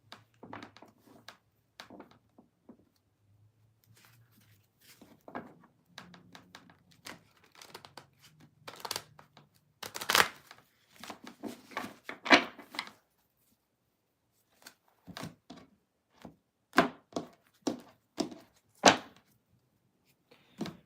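Tarot cards being shuffled by hand, a scattered series of soft riffles, taps and thunks, quiet and close, with long gaps between bursts and no talk.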